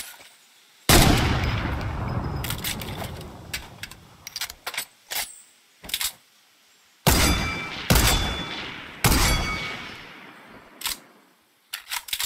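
Sniper rifle shots in a video game, several loud booming reports with long decaying tails, mixed with quick clicks of bolt cycling and reloading in between.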